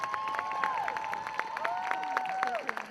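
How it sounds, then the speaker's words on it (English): Rally crowd at a state capitol applauding and cheering, with scattered claps and sustained shouts and whoops rising over a crowd murmur for a few seconds. "Let's give them a round of applause."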